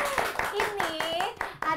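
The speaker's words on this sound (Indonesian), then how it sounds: "Boleh tepuk tangannya dong." A podcast studio audience claps in a brisk burst of applause, with rapid, even hand claps mixed with a voice talking over them.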